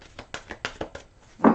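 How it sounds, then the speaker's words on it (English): Tarot cards are shuffled by hand in a series of about six light, crisp taps and flicks, quiet and close, ending in a louder riffle. "One more shuffle here."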